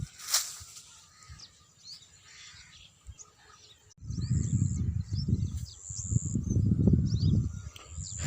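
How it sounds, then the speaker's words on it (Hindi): Small birds chirp and tweet in scattered short calls over an outdoor village background during a morning walk, with a low rumbling noise joining partway through. "छोटी छोटी चिड़ियाँ बोल रही हैं"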